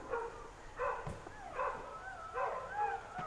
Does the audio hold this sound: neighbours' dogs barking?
yes